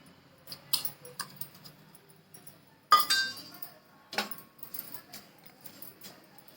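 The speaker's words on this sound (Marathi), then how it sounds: "आता खोबरं भाजून घेते" Grated coconut is dry-roasted in a metal pan and stirred nonstop, making sparse clinks and scrapes of a spoon against the pan, including a sharp ringing knock, quiet and close with gaps between strokes.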